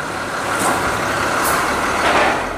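A large truck trailer idles with a steady, close, broadband rumble while a vehicle is loaded onto it, and two short high air-brake hisses burst out near the start and middle. No one speaks.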